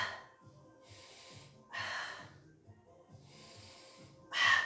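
Breathing during a Pilates exercise, with slow, audible breaths in long airy swells that rise and fall close to the microphone, one stronger exhale at the end, over faint background sound.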